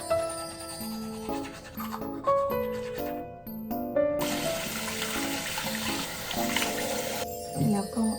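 Teeth being brushed and a face washed under running water from a tap, with steady flowing water and scrubbing sounds at close range while a voice talks over them and music plays in the background.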